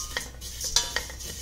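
Hand-broken vermicelli being stirred and roasted in hot oil in a pan over low heat, with a soft sizzle and light scraping strokes of a spoon against the pan, close and fairly quiet.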